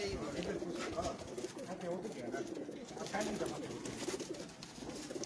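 Prized pigeons, including Sialkoti and Dubai birds, coo in a busy loft, a dense layered warble close by, with someone speaking over the birds.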